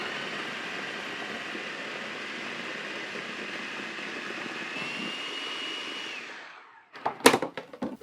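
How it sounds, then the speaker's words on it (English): A blender or food processor purees cooked apples with their skins on into applesauce, running as a steady, loud whir for about six seconds before winding down, followed by a few sharp clattering knocks. "a food processor or a really good blender"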